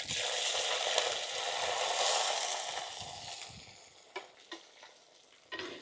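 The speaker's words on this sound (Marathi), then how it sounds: "हलके गोल्डन ब्राउन होस तर आपण परवल आणि बटाटे फ्राय करून घेणार आहे" Cut parwal (pointed gourd) and potatoes fry in refined oil with a loud, dense sizzle that slowly fades, followed by a few sharp scraping stirs near the end.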